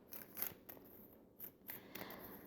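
Tarot cards being shuffled close by, soft papery flicks and riffles coming in short irregular bursts, quiet and without speech.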